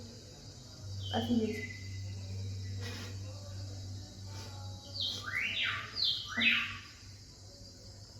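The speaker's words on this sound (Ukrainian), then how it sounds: "тут пташки співають" Birds chirp and trill in short bursts over quiet background hum, with a person speaking briefly.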